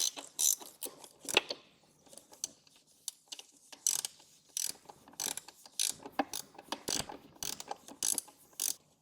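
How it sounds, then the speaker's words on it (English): A ratchet wrench tightens amplifier bracket bolts on a Harley-Davidson Road Glide, with close, crisp bursts of rapid clicking in irregular groups separated by short pauses. "Now we'll take our wrench and we'll tighten up each one of these."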